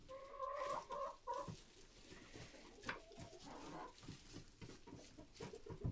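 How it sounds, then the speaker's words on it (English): A rooster clucks repeatedly nearby in short throaty bursts, with scattered rustling in between and no talking. "And Rudy is a very beautiful rooster"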